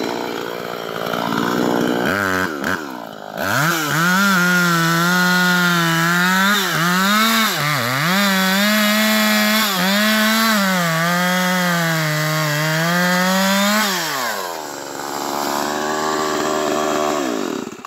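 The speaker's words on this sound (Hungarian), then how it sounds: "Nagyon viszi ez a fűrész, a puhos kemény fát, Pisti." A chainsaw revs up, then bites into hardwood with a loud, sustained whine that dips under load and rises again before easing off at the end.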